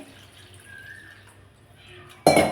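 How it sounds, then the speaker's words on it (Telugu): Hot water tipped off boiled eggs, then cold water poured in: quiet drips and trickles at first, then a sudden loud splashing gush of water into the pot near the end. "ఆ వేడి నీళ్ళు వంచేసేసి వాటిల్లో చల్లనీళ్ళు పోస్తే"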